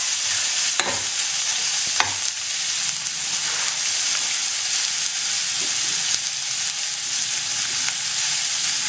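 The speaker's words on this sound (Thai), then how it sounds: "ผัดหมูให้สุกระดับหนึ่งก่อนนะครับ" Pork stir-frying in a hot pan, with a steady loud sizzle throughout and occasional sharp scrapes and clacks of a utensil stirring the meat, with no voices.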